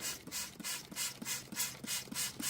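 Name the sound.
spraying EvapoRust rust remover down a gym equipment tube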